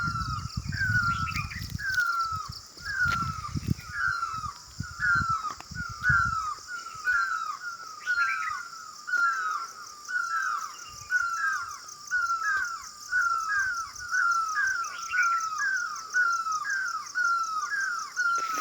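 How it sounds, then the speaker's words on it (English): Birds call in the mountains, a long series of repeated sharp, rhythmic chirping notes at a steady pace, with some low rustling and thumps in the first few seconds before the calls continue alone. "Many kinds of birds sing song."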